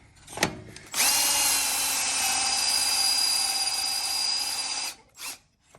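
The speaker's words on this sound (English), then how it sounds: "Just thinking we might need to drill it" A power drill boring into a part during a Tremec TKX transmission install on an Oldsmobile Cutlass, with WD-40 as lubricant: one steady high whine held for about four seconds, framed by brief clicks and a short burst after.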